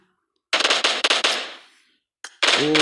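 Rapid bursts of video game automatic gunfire, loud and close. A long volley fades out, a single shot follows, then another burst starts.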